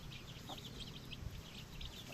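Native chickens kept in a backyard flock cluck softly and steadily in the background, a low, continuous farmyard murmur with no voices over it.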